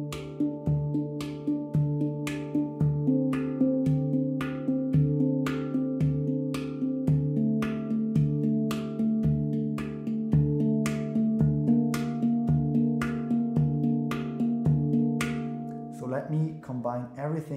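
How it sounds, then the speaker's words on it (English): A handpan played percussively, with rhythmic slaps on its bass notes alongside ringing harmonic tones in a steady trance-like groove, close and clear, with no talking. "and slap the instrument instead of playing the melodious upper note of the chord"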